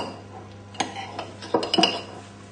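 A dessert spoon scraping and tapping against a dish while spreading lemon curd, heard as a few soft scrapes and light clinks at close range, ending in a small cluster of clinks.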